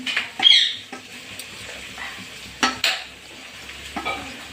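Onion frying in a pan, heard as a few sharp utensil scrapes and stirring strokes over a quiet sizzle, close and intermittent, no talk.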